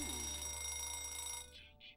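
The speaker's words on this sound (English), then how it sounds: "The alarm will automatically go off after your sim fully gets out of bed." A Sims 4 alarm clock rings faintly in the game, a steady electronic tone over a low background hum that breaks into two short bursts near the end.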